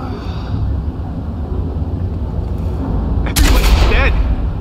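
Shotgun blasts in the Watch Dogs video game: a loud burst of gunfire rises near the end above steady game noise and background ambience, with no talk during the shot.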